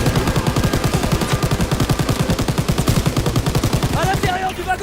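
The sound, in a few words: gunfire in the video game Call of Duty WWII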